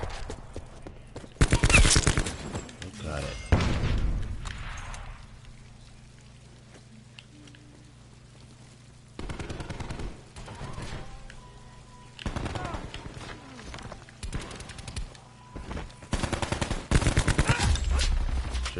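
Video game gun firing in irregular loud bursts of rapid shots, with quieter stretches of game background between volleys, close and dominant.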